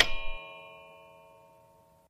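A doorbell in an animated house scene gives a single bright metallic strike that rings out and slowly fades over about two seconds.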